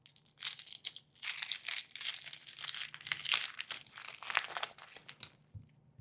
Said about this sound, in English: I'm going to do that by taking my blade and just rocking it down the onion and then peel off the layers.